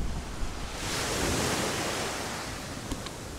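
Sea waves wash against the shore below an abandoned resort in Mindanao, a soft broad hiss swelling into a surge and slowly receding, with light wind and no speech.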